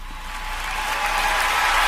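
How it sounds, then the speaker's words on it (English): Audience at a live music performance applauding, a smooth wash of many hands clapping together that swells steadily louder over a couple of seconds. "I'm gonna get some applause here"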